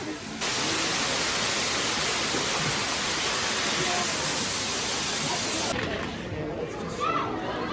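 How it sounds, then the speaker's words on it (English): A waterfall at San Diego Zoo Safari Park gives a loud, steady rushing roar that fills the whole stretch and eases slightly near the end. "There is a waterfall, which is one of my favorite features in this entire zoo."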